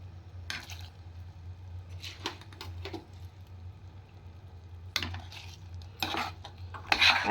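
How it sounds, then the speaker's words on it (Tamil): Rice poured into a pot of boiling water while making coconut milk rice: a few brief scattered rattles and scrapes over a steady low simmering hum, with no talking. "இந்த கொதிக்கிறதுல இப்போ அரிசியை போட போகிறேன்"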